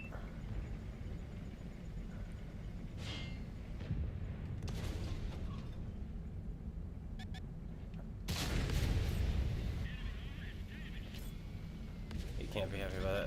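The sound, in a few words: tank cannon firing in a video game, Bär tank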